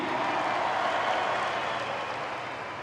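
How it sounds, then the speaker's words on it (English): A crowd at a supercross event in Auckland claps and cheers steadily in a dense, continuous wash. The applause fades slightly toward the end, and no voice stands out above it. "So can you please give a big round of applause for Ella"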